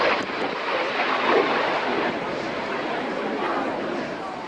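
An aerobatic airplane displaying at the Biggin Hill Air Fair, its engine a distant, wind-blown drone that holds steady overhead, heard beneath commentary and crowd chatter.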